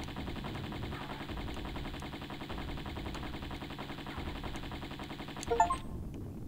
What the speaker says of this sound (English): She just stands there shooting at you